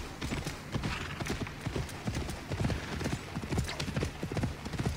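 Steady clip-clop of a galloping horse on a road in Assassin's Creed Valhalla, rapid repeated hoof beats close and clear, carried over a continuous low background of game ambience.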